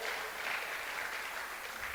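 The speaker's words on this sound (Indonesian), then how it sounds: "Beri tepuk tangan buat saudara" Dense, even applause fills a youth retreat worship gathering, a continuous crackling roar with no talk over it.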